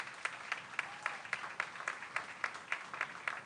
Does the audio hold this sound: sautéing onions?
no